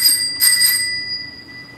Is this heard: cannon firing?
no